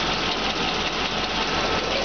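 A forestry bucket truck engine idles steadily, a loud close continuous mechanical rumble with an even running texture and no talking.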